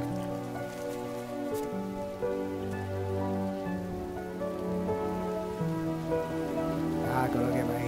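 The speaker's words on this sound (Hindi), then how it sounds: "इतनी तेज बारिश में कौन आएगा" Heavy rain pours down in a steady, dense hiss of drops on surfaces, continuous throughout with sustained musical tones playing underneath.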